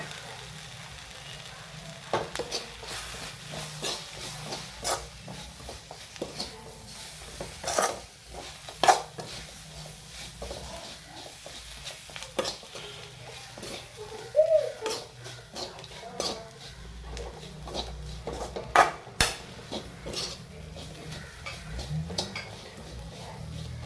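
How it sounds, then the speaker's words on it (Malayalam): Masala with pepper powder sautéed in a pan gives a soft, steady sizzle broken by frequent scraping and clinking of a spoon against the pan, close and moderately loud. "അല്പം കുരുമുളക് പൊടി. ഇതാണ് നല്ലപോലെ ഒന്ന് വഴറ്റണം"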